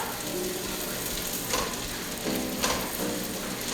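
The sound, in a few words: onions frying and stirred in bacon fat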